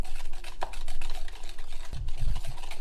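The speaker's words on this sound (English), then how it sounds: "we're going to go ahead and whisk this quickly" A whisk beats custard in a pot with fast, continuous scraping and clinking, close and steady, and a few low knocks near the end.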